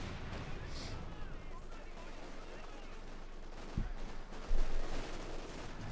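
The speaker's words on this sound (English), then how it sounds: "Light machine guns opening up in the advancing British troops" Light machine guns open up from advancing British infantry in Company of Heroes 2, a steady crackle of gunfire running under a busy battle bed with a couple of heavier thumps near the end.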